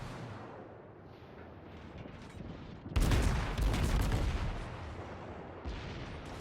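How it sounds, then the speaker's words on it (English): The Atlanta cruiser's naval guns fire in World of Warships, with a sudden heavy salvo booming midway, followed by rumbling, rolling reports that fade and a smaller blast near the end, after a quieter stretch of ambient sea noise. "This salvo could have been rather devastating."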